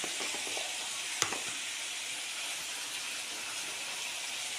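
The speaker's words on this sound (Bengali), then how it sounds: "এবার কড়াইতে কিছুটা তেল আছে, আমি কম তেলে রান্না পছন্দ করি, ওই জন্য এর মধ্যেই ফোড়ন দিয়ে দেবো।" Cumin seeds and two bay leaves tempering in a little hot oil in a kadai, a steady broad frying sizzle throughout with one sharp crackle pop near the start, fairly quiet and with no talking.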